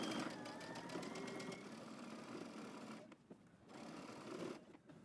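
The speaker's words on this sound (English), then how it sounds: "Now stitching only on your lining, about 1/8 of an inch away from your seam line" A home sewing machine runs in a steady close mechanical whir while understitching a dress lining about 1/8 inch from the seam, briefly slowing and pausing twice before starting again.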